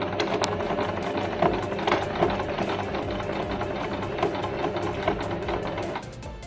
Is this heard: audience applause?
no